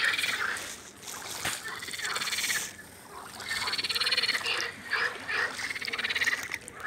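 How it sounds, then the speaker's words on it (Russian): Frogs croak in a dense, continuous chorus from the riverbank of the Volga at the Ivankovo reservoir, near Konakovo. The sound is steady and fairly loud, with faint water and boat noise underneath. "С берега нас провожают лягушки"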